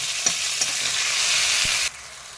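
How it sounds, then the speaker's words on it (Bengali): Chopped onions and tomatoes stir-frying together in a pan for shol fish kalia, a dense hissing sizzle with a few utensil knocks, cutting off sharply near the end. "এবার সমস্ত পেঁয়াজ টমেটোগুলোকে একসাথে একটুখানি নাড়াচাড়া করে নেব"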